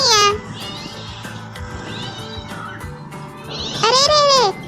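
Prank cat meows in a cartoon about a timid dog: a loud, wavering meow opens and another long, rising-falling meow closes, with a voice talking between them.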